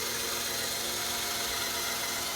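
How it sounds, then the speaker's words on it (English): Power drill drilling out an engine mount for a Honda CRX, a constant dense whir with a gritty mechanical edge, close and loud throughout. "Chris is drilling out the mount right now to Miguel for his CRX."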